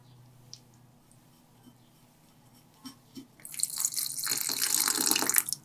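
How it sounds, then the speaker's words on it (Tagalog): A little water pours into a bowl of batter made with breading and egg, starting after a few faint drips and running as a steady, close splashing trickle to the end. "Nagbuhos lang ako ng konting tubig dito."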